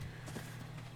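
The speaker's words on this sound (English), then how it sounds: "I can hear my footsteps" Footsteps of a player character in the video game Ark: Survival Evolved, a soft, steady series of muffled steps over a constant low hum, fairly quiet with no talk.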